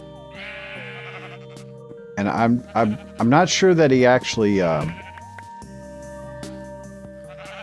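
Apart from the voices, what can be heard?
sheep bleating while being sheared in video game Minecraft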